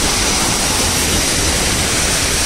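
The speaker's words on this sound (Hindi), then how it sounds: "मैं सेकेंड टाइम देख रहा हूँ यहाँ बारिश, पहले नहीं थी इतनी बारिश।" Heavy rain pours steadily in Sharjah while water runs off, making a dense, loud, continuous hiss with no talk over it.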